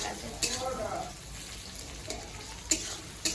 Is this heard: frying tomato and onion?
yes